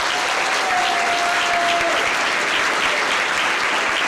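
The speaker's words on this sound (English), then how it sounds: "Please give a big round of applause as I welcome up to this stage Rachel" A large audience breaks into sustained, loud applause welcoming a speaker to the stage at an awards-style event, an even roar of clapping with a brief faint tone through the middle.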